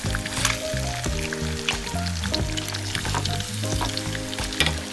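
White sea bass fillets fry in a hot pan with a loud, crackling sizzle that runs steadily under background music.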